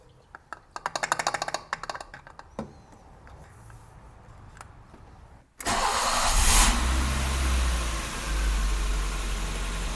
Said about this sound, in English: let the engine idle 10-15 minutes